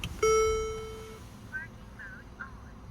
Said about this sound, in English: BlackVue has like audio on it, so it'll tell you when it's in parking mode